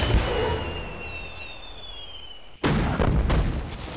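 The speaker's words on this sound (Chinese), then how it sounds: "我会准时打响信号弹" A signal flare fired at night near a river landing, a fading whistling streak followed by a sudden loud burst of crackling noise.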